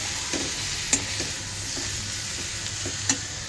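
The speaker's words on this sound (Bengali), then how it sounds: "আমটা একটু সরষে ফোড়ন আর শুকনো লঙ্কা ফোড়ন দিয়ে নুন হলুদ দিয়ে আমটাকে হালকা ভেজে নিচ্ছি" Mango pieces fry in oil with mustard seeds, dried chilli, salt and turmeric, giving a steady close sizzle with a couple of sharp clinks from stirring against the pan.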